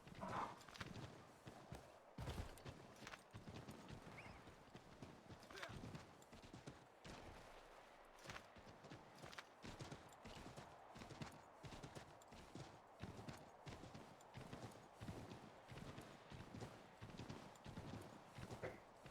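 Horse hooves clip-clopping in Assassin's Creed 3 Remastered, a steady rhythmic trot running throughout amid busy game sounds, with occasional sharp gunshot-like bangs.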